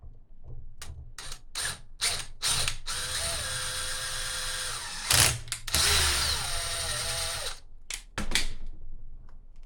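A power driver drives dirty screws into electric scooter parts on a Dualtron Victor, a close ratcheting, whirring mechanical sound in several short bursts and longer sustained runs with brief pauses between.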